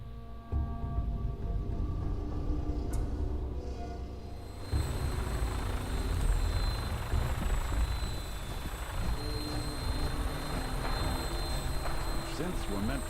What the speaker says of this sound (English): We're going on a vertibird.